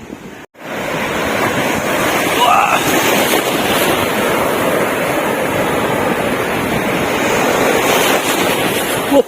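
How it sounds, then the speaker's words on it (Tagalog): Strong ocean waves surge and crash continuously at Bolinao in the Philippines, with loud, steady wind roar, after a brief silent gap at the start. "Grabe alon."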